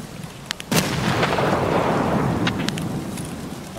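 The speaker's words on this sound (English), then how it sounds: "I'm gonna nade top of the hill as well." A grenade blast in the shooter game Escape From Tarkov erupts as a deep, booming explosion with a rumbling tail, preceded and followed by faint clicks and shots in the distance.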